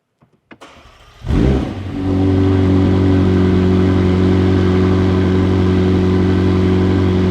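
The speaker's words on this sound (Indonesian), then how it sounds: "Suaranya tuh suara supercar sekali ya. Suara mesin balap." McLaren 750S supercar engine starting up: a sharp ignition bark flares into a loud rev, then settles into a strong, steady, throaty idle that is close and dominant, with no talking.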